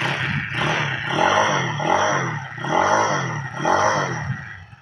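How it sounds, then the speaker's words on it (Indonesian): A Benelli TNT 25 2023 motorcycle with a 250 cc single-cylinder engine, its exhaust rumbling close and loud in a steady idle that swells in repeated rev-like surges about once a second, with no talk. "Dan ini untuk yang knalpot."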